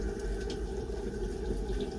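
Water runs continuously from a tap during a hair wash, a steady close splashing stream with no talking.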